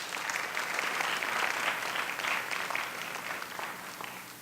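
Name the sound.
audience applause welcoming speakers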